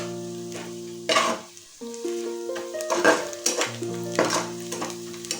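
Onions frying with sugar in a pan for mutton ghugni give a steady sizzle, broken by a few scraping stirs of a spatula against the metal and some faint tonal clatter from the kitchen.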